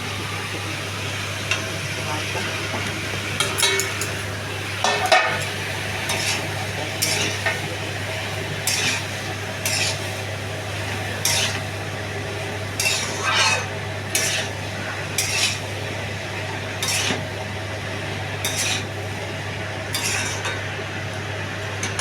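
Bottle gourd cooking in a pan with a steady low sizzle, while a utensil scrapes and clinks against the metal in repeated irregular stirring strokes under a continuous hum.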